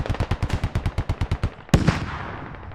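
A .50 cal machine gun in a military video game fires a fast, evenly spaced burst of about fourteen heavy shots, then one louder close blast follows with a decaying echo.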